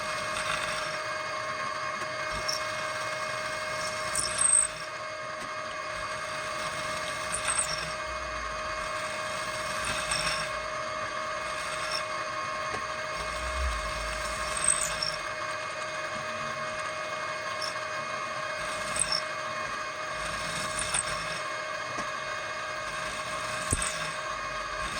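Small power tool running continuously while notching a part during the restoration of a ShibaSoku AM50 audio analyzer, a steady high-pitched whine with faint periodic clicks and light bumps, close and even throughout.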